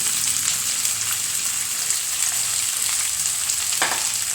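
Onion, curry leaves, ivy gourd and a few bird's eye chillies frying in a pan, a loud close sizzling hiss with stirring scrapes, one sharper clatter near the end.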